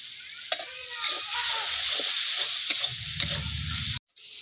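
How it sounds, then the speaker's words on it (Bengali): Spice masala with Kashmiri chilli powder and a little sugar frying in a pan, a steady close hiss and sizzle with a few stirring scrapes and clinks, then a short break near the end. "মশলাটা ভাজা হয়ে গেছে"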